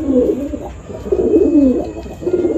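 Gola Madrasi pigeons coo steadily in soft, rolling low phrases, several birds overlapping close by with no pauses throughout.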